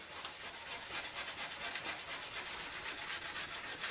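Coarse steel wool scrubs surface rust off a machete blade in quick, regular back-and-forth strokes, a close, rhythmic rasping with no talking.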